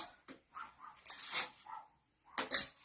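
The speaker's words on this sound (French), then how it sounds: "Non, tu laisses le chien aboyer." A dog yaps and whimpers nearby in short, uneven bursts, with a sharper bark near the end, indoors during a live clothing show.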